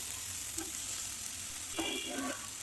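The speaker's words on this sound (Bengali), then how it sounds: "রসুনগুলো ভালোভাবে ভাজা হয়ে গেছে" Garlic cloves fry hard in a pan with a steady, quiet sizzle. Two short scraping stirs, one brief and one longer, cut through near the start and toward the end.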